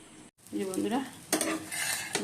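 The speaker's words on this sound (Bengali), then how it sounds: "3টে ডিম একবারে ফাটিয়ে ভেজে দেবো" Three eggs fry together in a pan, giving a soft, low sizzle with a few scraping strokes and clinks of a utensil against the pan, quiet and close.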